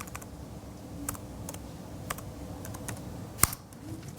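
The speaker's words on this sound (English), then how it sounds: "Let me type that." Rapid, light clicks of a computer keyboard being typed on during a software infrastructure demo, coming in short irregular bursts with one sharper keystroke, close and fairly quiet over a steady background hum.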